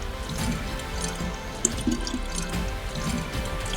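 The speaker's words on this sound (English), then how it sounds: "try and fill my water bottle up again at this water fountain" Water trickles and drips from a fountain while a bottle fills in the DayZ survival game, a faint, soft splashing with scattered small drips over a constant low ambient bed.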